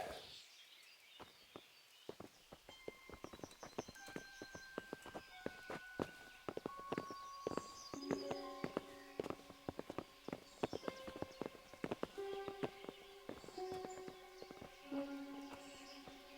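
Horses' hooves clip-clop in the medieval video game Kingdom Come: Deliverance, a steady close stream of hoofbeats on hard ground with faint tonal music and ambience behind, no talking.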